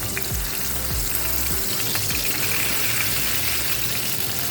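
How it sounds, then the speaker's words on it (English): Burger patties frying in a pan for homemade double cheeseburgers, a dense steady sizzle and crackle heard up close, with a few low knocks and scrapes of the pan. "for frying, you will fry each side 3 minutes."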